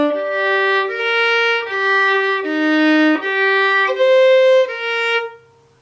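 A fiddle plays a short repeated tune phrase, clear sustained bowed notes moving step by step, loud and close with no talk, fading at the end.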